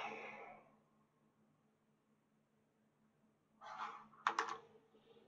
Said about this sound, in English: Actually, I'm gonna move my keyboard. There we go. Just plonk the keyboard down there.